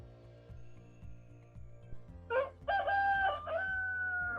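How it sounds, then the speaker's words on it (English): A rooster crows at 5 in the morning on a coffee plantation, two or three loud close cock-a-doodle-doo calls over a steady low droning background, with no talk. "The rooster crows as we begin the day working on coffee plantations."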